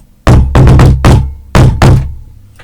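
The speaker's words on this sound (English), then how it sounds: "As is the purpose of a door knocker, to make a tune and a sound of music, it's to make noise, to bang." A brass door knocker bangs hard against a door in a loose, uneven rhythm of six loud, resonant thuds, with some strikes grouped close together. The knocks are near and sound alone, with no talk.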